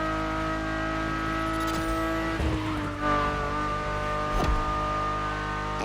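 A Ferrari supercar engine roars in the racing video game The Crew Motorfest, heard from inside the cabin. The loud, sustained engine note rises and shifts pitch through gear changes, with no talking.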